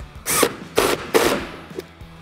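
Ratcheting and tightening of a seat belt anchor bolt with a 14mm wrench while fitting a 3-point retractable belt in a 1979-2019 Mustang: three bursts of close metallic clicking, followed by a softer tap.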